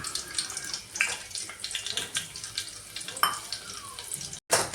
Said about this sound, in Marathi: तेल गरम झालं की 2 लसूण पाकळ्या ठेचून टाकल्या